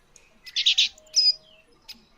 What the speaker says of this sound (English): That's only Cheep Cheep, my little, very annoying bird.